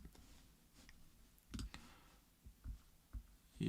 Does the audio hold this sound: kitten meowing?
no